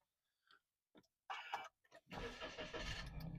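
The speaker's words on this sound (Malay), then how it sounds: "Kereta pun dah boleh start macam biasa." Car engine starting after a jump start from a portable power bank jump starter: a few soft clicks and ticks, then a brief crank and the engine catching and settling into a steady running hum, fairly close.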